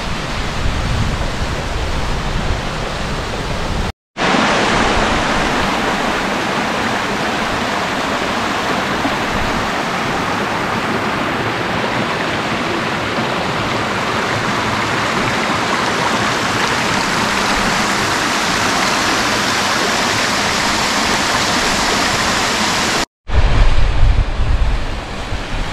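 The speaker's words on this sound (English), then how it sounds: "Just arrived at Three Sisters waterfall." Three Sisters waterfall at Hen Hole on The Cheviot, running with a great deal of water. It gives a loud, continuous rushing roar that fills the whole stretch, broken only by two brief cuts.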